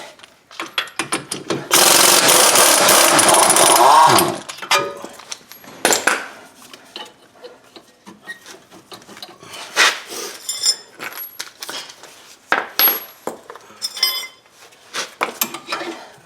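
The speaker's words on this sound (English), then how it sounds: "I'll just take these 2 bolts out." A wrench working on the front strut bolts of a 2007 Ford Edge, giving sharp metallic clicks and clanks in scattered bursts, with a loud steady grinding stretch near the start.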